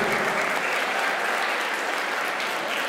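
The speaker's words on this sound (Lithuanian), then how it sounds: "Aplodismentais padėkokime" Spectators at a youth dance sport ranking competition in Ukmergė applaud a dance group, a dense, even burst of clapping from a crowd that continues without pause.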